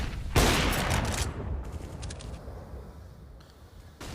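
Rapid SMG gunfire in Counter-Strike during a CR4ZY vs HAVU DreamHack Open Rotterdam match, a loud burst of shots up front that trails off into quieter distant firing and game ambience.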